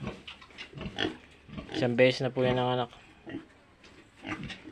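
A breeding sow on a small Filipino backyard pig farm grunts loudly and repeatedly up close, a run of deep rhythmic oinks, while someone talks over and around the sounds.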